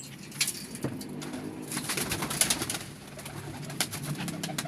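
Tiger pigeons coo softly and repeatedly at close range, with scattered sharp clicks and rustles between the calls.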